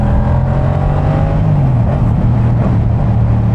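A Yamaha MT-07 motorcycle, Snatch Edition MK1, with a loud close engine droning steadily at low revs, its pitch wavering slightly and dropping as it eases off, with no talk.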